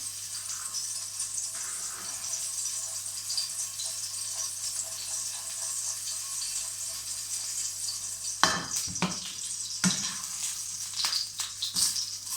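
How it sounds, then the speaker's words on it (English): Meat frying in hot oil, seasoned with salt and pepper, gives a steady close sizzle throughout, with a few louder clattering stirs and pan knocks toward the end. "Get that round in that oil and it cook off."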